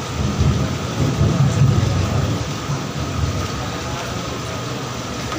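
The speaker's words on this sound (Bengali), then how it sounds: "এখান থেকে বাজের আওয়াজ শোনা যাচ্ছে" Heavy rain roars steadily outdoors with a deep, rolling rumble of thunder underneath, a dense, continuous wash of sound with no voices.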